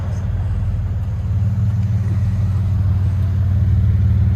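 A 1995 Nissan Cedric 3.0L VQ30 V6 idles close by through a DTM muffler with the resonator removed and 2.25-inch pipe, giving a loud, steady low rumble that swells slightly partway through.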